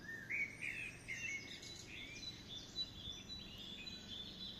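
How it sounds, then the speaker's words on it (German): Songbirds, among them a blackbird, robin, chaffinch and great tit, plus a carrion crow, sing in a spring wood of marsh marigolds with a lawnmower nearby; faint chirps and short warbled phrases come and go over a low steady background hum. "Neben dem Rasenmäher hört man jetzt auch die Amsel, das Rotkehlchen,"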